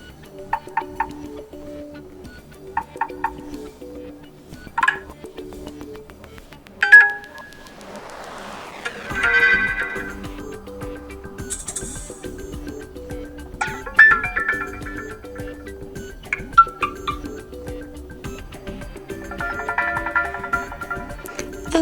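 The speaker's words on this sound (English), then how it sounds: "so let me start with default notification sound" Default notification tones of a Gigaset GX290 smartphone play one after another: short tonal chimes and beeps spaced a few seconds apart, fairly clear, over faint room noise.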